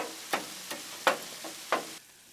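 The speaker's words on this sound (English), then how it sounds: "all we're gonna do is just come in here and just start chopping" Metal scraper chopping bacon cheeseburger burrito filling on a sizzling griddle, four or five sharp clacks at irregular intervals over a soft frying hiss, close and clear with no talk.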